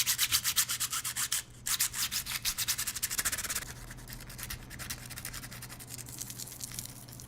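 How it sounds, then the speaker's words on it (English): Garnet scraped repeatedly across the sapphire-covered screen of an iPhone 6, a fast rhythmic series of gritty rubbing strokes with a short pause partway through, then softer, less regular scratching, close and clear. "I also noticed it made a very different sound when scratching"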